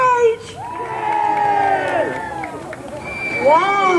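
A crowd of young voices cheers and whoops loudly at a Thorpe Park Fright Nights event, sustained shouts rising and falling, then swelling again toward the end.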